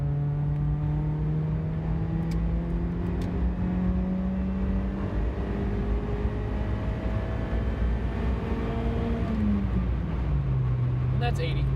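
A 1987 Toyota Corolla FX16 with a 4A-GE engine and aftermarket exhaust pulls hard in third gear, its steady rising drone climbing continuously toward the top of the rev range with a brief dip near the end, loud and close throughout.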